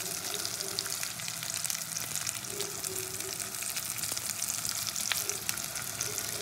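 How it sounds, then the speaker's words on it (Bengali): Onions for chicken do pyaza fry lightly in a pan, a soft steady sizzle with faint crackles and occasional stirring, close and continuous with no voices. "হালকা করে ফ্রাই করে নেবো, খুব বেশি ভাজার কোনো দরকার নেই চিকেন দো পেঁয়াজের পেঁয়াজগুলো"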